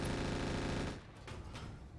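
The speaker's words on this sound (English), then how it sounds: "Machine guns on the Hatchetman are pretty irrelevant, if I'm honest." The Hatchetman mech in the RogueTech battle game looses a dense, rapid burst of machine-gun fire for about a second, then it stops and a few scattered impacts follow.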